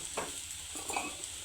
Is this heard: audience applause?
no